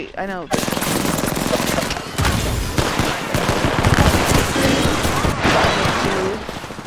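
Sustained automatic gunfire in a video game, dense rapid bursts of shots roaring loudly and almost continuously for several seconds, with game sounds mixed underneath.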